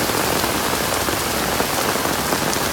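Heavy rain pours in Tai Po, a dense, loud, unbroken hiss of drops drumming on surfaces and an umbrella, with no voices.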